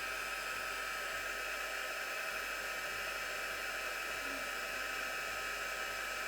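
A heat tool blows steadily to warm embossing powder on a Christmas card, a constant close whooshing roar of hot air that runs unbroken throughout.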